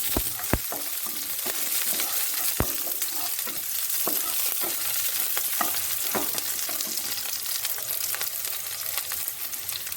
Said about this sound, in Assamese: এতিয়া এইখিনি অকণমান ভাজি লওঁ।